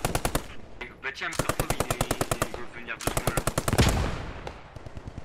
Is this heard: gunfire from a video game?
yes